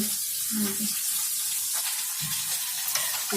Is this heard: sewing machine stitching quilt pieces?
no